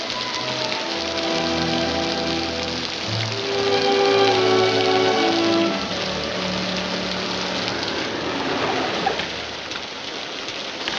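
Heavy rain falls steadily in a 1940 rural farm setting, a dense close hiss that runs throughout. Soft musical tones sit underneath.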